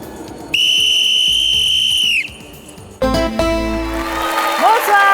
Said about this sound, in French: Tu siffles et c'est tout